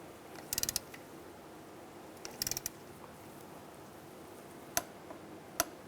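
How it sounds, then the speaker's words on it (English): Torque wrench tightening a brake caliper bolt to 30 foot-pounds on a 2002-2005 Chevrolet Trailblazer front brake, giving faint clustered ratchet ticks and two sharp clicks near the end, quiet and alone. "Now I'll torque this bolt to 30 foot-pounds."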